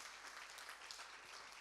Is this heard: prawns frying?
no